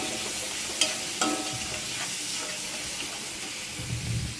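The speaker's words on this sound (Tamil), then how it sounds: "மீன்ஸுக்கு தேவையான அளவு உப்பு சேர்த்து நல்லா வதக்கி விட்டுக்கலாம்" Minced meat with onions, tomatoes and salt sautéing in a pan: a constant close sizzle, broken by a few sharp utensil clinks and stirring scrapes, with no talk.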